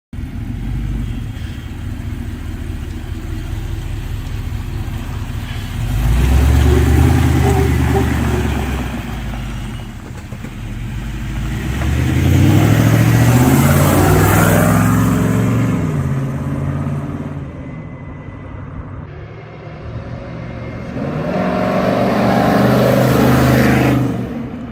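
A 1988 Jeep Cherokee with an LS swap, an LQ4 V8, on a test drive, its engine swelling loudly in three long revving surges between quieter cruising, no talking.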